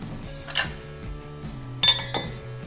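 Several sharp clinks of glass and metal, close by, as lids are fitted and tightened onto canning jars of beef bone broth in a quiet room.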